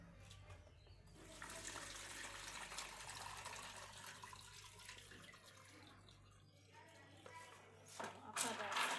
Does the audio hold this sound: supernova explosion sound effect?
no